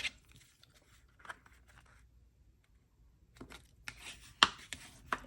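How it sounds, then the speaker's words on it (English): A paper card being folded and creased with a bone folder during a card-making craft, with soft close rubbing and scraping strokes and a few sharper crinkling taps, faint and intermittent. "And crease it with my bone folder."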